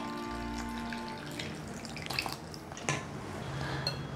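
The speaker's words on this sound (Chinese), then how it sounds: "倒入360 cc 的水" Water, 360 cc, poured into a bowl of rice-flour batter for steamed water cakes, with splashing and dripping liquid sounds and a few sharper clinks and knocks, heard close up with no talking.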